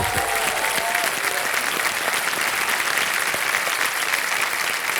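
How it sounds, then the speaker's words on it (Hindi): Studio audience on Kaun Banega Crorepati applauds the Fastest Finger First contestants, a loud, dense, continuous roar of clapping from a big crowd, close and sustained throughout, with a brief voice at the start. "तालियां बज जाए इनके लिए एक बार।"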